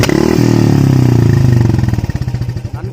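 A Royal Enfield Classic 350 motorcycle engine fires up loud and close, settling from a rising rev into a steady, deep thumping exhaust beat that turns into distinct rhythmic pulses toward the end.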